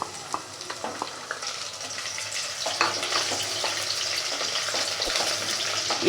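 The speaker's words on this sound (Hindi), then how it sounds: "तेल गर्म होने पर मैं इसमें प्याज ऐड कर दूँगी जो हमने निकाल के रखी थी।" Chopped onion sizzles in hot oil in a pan, a dense steady frying hiss with occasional soft clicks of stirring, close and continuous.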